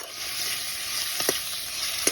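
Food frying and sizzling in a pan in an underground house, a steady hiss with a few scraping stirs near the end, close and moderately loud with no talk.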